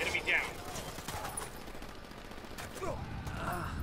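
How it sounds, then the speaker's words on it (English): Gunfire in the shooter game Ghost Recon Wildlands, a dense crackling fusillade of rapid shots under constant game noise, with a player speaking over it. "Calm down, I'm being shot at."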